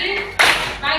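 A brief burst of clapping from a class of students during a morning clapping chant, landing sharply mid-clip between stretches of voices and room noise.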